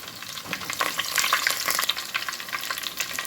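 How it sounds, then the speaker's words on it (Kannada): Garlic, curry leaves and mustard seeds sizzle and crackle in hot oil during cooking of a cauliflower gravy, a steady bright frying hiss with small pops throughout, close and alone. "ಸ್ವಲ್ಪ ಬೆಳ್ಳುಳ್ಳಿ ಹಾಕ್ಕೊಳ್ತಾ ಇದ್ದೇನೆ. ಹಾಗೆಯೇ ಕರಿಬೇವಿನ ಎಲೆ,"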